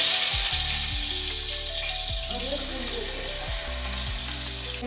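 Steady hiss of curry leaves sizzling in coconut oil in a pan, with a few low thumps as the pan is handled; no voices.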